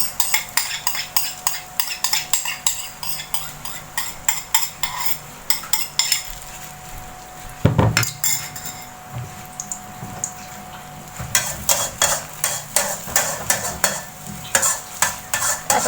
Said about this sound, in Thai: คนไปเรื่อยๆจนไข่เซ็ตตัวแล้วเราค่อยพอ